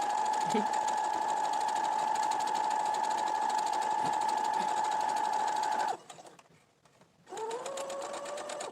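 A sewing machine stitches a fabric face mask in a steady, loud whirring run, pauses briefly, then starts up again.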